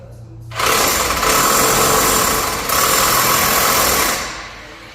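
An electric impact wrench tightens a nut on a 2005 Toyota 4Runner's rear suspension, running as one loud, continuous buzzing whir for about three and a half seconds with a brief dip midway before it winds down.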